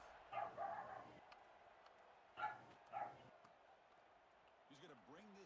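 A dog barks three times in short, fairly faint bursts, two close together early and one later, against a steady background of broadcast noise with a brief whistling sound near the end.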